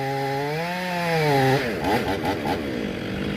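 A long-bar chainsaw revs high and steady, then bites into tree wood during tree removal with a rougher, choppy cutting tone, loud and close throughout.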